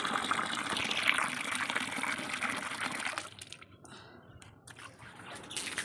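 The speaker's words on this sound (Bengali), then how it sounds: "ছাদটা ঝাঁট দেওয়ার পরে জল নিয়ে চারিদিকে ছড়িয়ে দিচ্ছি" Water is flung by hand across a rooftop after sweeping on a hot day, a close, steady splashing gush that thins out partway through and then picks up again.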